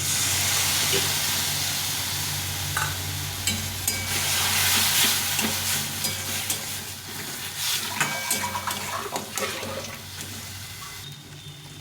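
Chickpea ghugni masala with ground cumin, coriander, chilli and turmeric stir-fried with a splash of water, a continuous loud hissing sizzle close up, with intermittent spatula scrapes throughout and no voices.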